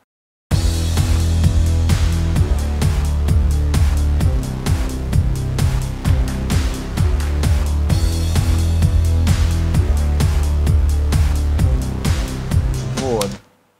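A mixed rhythm section of kick, bass, snare drum and hi-hat drives a loud, dense, steady groove for about thirteen seconds before cutting off abruptly.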